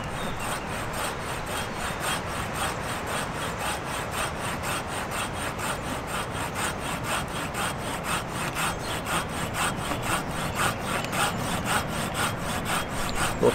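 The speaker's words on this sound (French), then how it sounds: "je vais pas forcer sur la scie, parce que le but du jeu c'est pas de débiter un gros volume de bois rapidement, c'est de faire une coupe nette." A hand saw cuts steadily through wood in a forest camp, with even, rhythmic back-and-forth strokes rasping close to the microphone for the whole stretch, and no voices.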